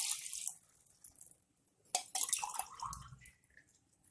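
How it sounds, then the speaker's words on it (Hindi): Water poured from a measuring glass into a pot of soaked rice and arhar dal for masala dal khichdi, a splashing, trickling stream in short bursts, close and moderately loud, with no talking. "इसी ग्लास से नाप के हम इसमें पानी डालेंगे।"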